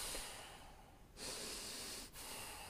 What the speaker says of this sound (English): This is how you get chi through the nose